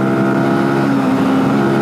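A Benelli TNT 125 motorcycle is ridden at a steady pace, its small engine giving a constant buzzing drone with a held tone, no voices, cutting off abruptly at the end.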